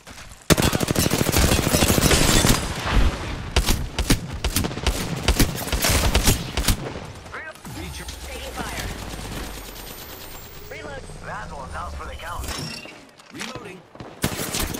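R-301 rifle gunfire in a video game, rapid loud automatic bursts in the first half, followed by sparser shots, movement and effects in quieter game action.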